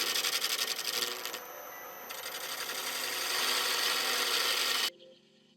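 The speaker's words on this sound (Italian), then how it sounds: "Sempre con la stessa sgorbia, lavoriamo il prossimo anello, formando un piccolo tenone che ci aiuterà nel centrale" A wood lathe gouge works a segmented Tasmanian pine ring, forming a small tenon: a steady close-up scraping rasp of tool on spinning wood that stops abruptly near the end, leaving quiet room tone.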